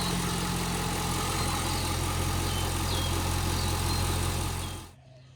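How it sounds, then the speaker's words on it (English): V8 engine in a mini burnout build idling steadily with a loud, even rumble and buzzing exhaust, then cutting off abruptly near the end. "But a good running engine."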